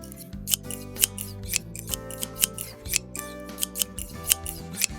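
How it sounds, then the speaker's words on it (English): Scissors snip steadily through burlap, cutting freehand around a pillow design in a run of crisp, evenly spaced cuts heard close up over background music. "I'm going to cut around it freehand without a ruler."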